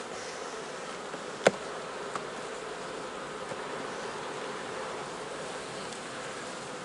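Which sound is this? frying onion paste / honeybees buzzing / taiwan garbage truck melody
honeybees buzzing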